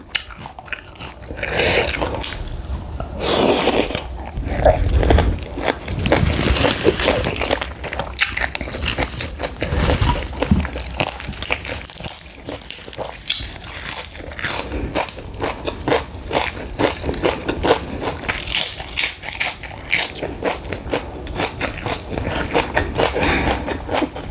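Crunchy eating of fried crispy salmon, chicken feet and papaya salad with fresh vegetables, heard close up as continuous loud bites, crunches and chewing for the whole stretch, with no talk.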